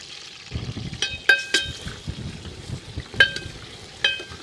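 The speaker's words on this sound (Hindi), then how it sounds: "तो अपन पहले तो भुनाई करेंगे इसकी।" Pieces of meat (royal maas) roasting in a pan at an open-air resort kitchen in the Kumbhalgarh hills, with a steady sizzle and repeated clattering stirring scrapes under the frying.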